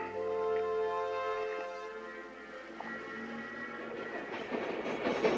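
A train runs along the rails with a steady rumbling roll and tonal wheel and carriage drone, sustained and fairly loud, with rattling growing busier toward the end.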